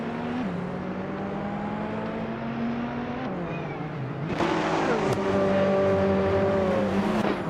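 Race cars, including a 2017 Mazda RT24P, running side by side in a video game race, with steady engine whine whose pitch shifts through gear changes and grows louder and fuller near the end.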